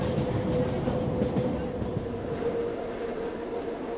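An old narrow-gauge train on the Ligne de Cerdagne in the Pyrenees rumbles steadily along, a continuous loud rolling roar with faint rhythmic rail clatter and a tonal hum, with no voices.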